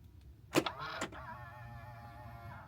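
Car door locks actuate with two quick mechanical clunks about half a second apart, followed by a faint lingering motor whir.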